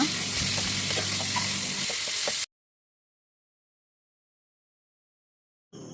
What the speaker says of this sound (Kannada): ಫ್ರೈ ಆಯಿತು ನೀರುಳ್ಳಿ ಈಗ ಟೊಮೆಟೊ ಹಾಕುವ